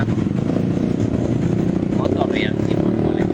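Motorcycles pass on an alternative route in Palopo after the collapse of the Rampoang bridge, a steady dense engine drone with a passing horn, heard under continuous talk.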